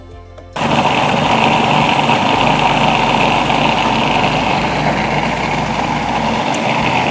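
A food processor blending artichoke dip starts abruptly and runs as a loud, steady motor whir with a coarse churning hiss, close and constant, with no one speaking.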